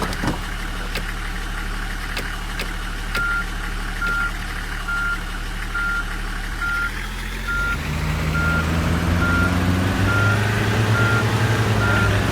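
A minibus in the Tourist Bus Simulator game sounds steady, evenly spaced reversing beeps over a loud idling engine, which swells into a heavier revving drone partway through as the vehicle backs up. No one speaks.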